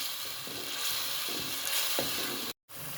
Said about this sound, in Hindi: इसको हम अच्छी तरह भून लेते हैं।